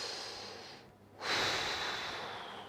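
A person breathing during a daily training session, with a soft exhale, a brief pause, then a louder, sharper inhale or snort close up.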